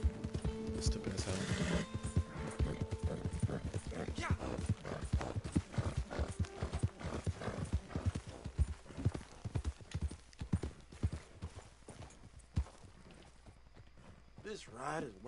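In Red Dead Redemption 2 Online, horse hooves pound in a fast, steady gallop for a long stretch, joined early by a loud neigh, with talking mixed in.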